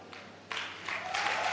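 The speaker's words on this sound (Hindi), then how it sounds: "ताली बजाएं इनके लिए।" Audience applause for four people called up at a basic leadership training session, starting thin and swelling into steady clapping halfway through, moderately loud and without talk.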